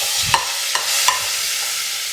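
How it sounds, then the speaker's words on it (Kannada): Boiled carrots frying in hot ghee for carrot halva, giving a steady sizzling hiss broken by a few sharp stirring scrapes and clicks. No one speaks. "ಚೆನ್ನಾಗಿ ಫ್ರೈ ಆಗಬೇಕಿದು।"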